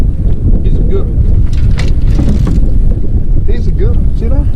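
Wind blows across a fishing boat on a cold day out catching crappies, a loud continuous rushing buffet on the microphone with faint voices underneath.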